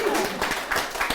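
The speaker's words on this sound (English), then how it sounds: "should we first of all give a round of applause to the amazing panellists?" A room of listeners at a mental health panel event claps for the panellists, a brief burst of applause lasting about a second, with a voice briefly heard alongside it.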